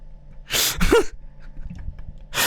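Heavy, loud breathing from a man, with two rough breaths in close succession, a short vocal sound between them, then a quieter pause before another harsh breath begins.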